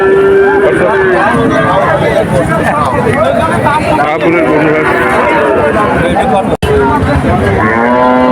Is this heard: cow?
yes